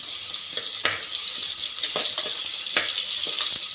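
Chopped onion and curry leaves frying in hot oil with popped mustard seeds, a steady bright sizzle with a few soft stirring scrapes, close and alone without talk.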